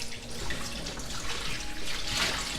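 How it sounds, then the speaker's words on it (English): Water flows steadily into a bowl for rinsing yam, a continuous close pouring splash with no talk throughout. "what I'm doing right now is to flow in some quantity of water inside this bowl so that I can rewash the yam for the 3rd time"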